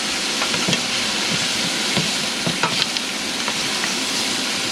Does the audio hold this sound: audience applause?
no